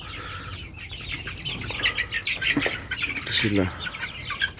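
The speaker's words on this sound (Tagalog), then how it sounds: "native chicken ito." Native chickens in a backyard farm coop cluck and squawk steadily, close by and overlapping, while someone speaks briefly over them.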